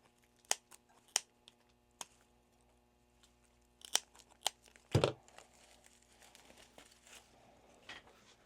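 Snips cut through decorative stems for a grapevine fall wreath, giving sparse, sharp crisp clicks and snaps with quiet gaps between, a louder crunchy cluster around the middle, close by with no talking.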